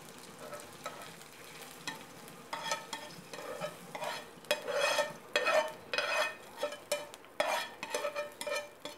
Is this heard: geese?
no